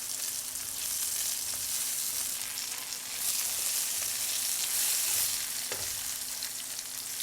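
Herb-seasoned pork chops fry in a hot pan, a loud, close, continuous sizzle and crackle with no one speaking.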